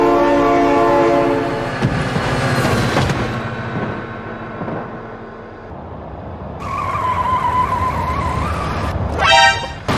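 A passing train sounds its horn loudly at first, then rumbles and clatters away while another tone sounds and a short sharp squeal rises near the end.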